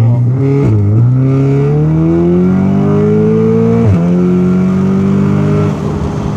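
A Stage 2 tuned car engine revs hard and loud up close, its pitch climbing steadily, dropping sharply at each gear change, then rising again.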